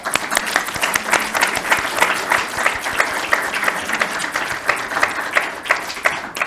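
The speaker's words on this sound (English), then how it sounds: "Let's give them a round of applause." An audience applauds program volunteers at a grand reopening event. The clapping is dense, steady and sustained, moderately close and filling the room without pause, with no talking over it.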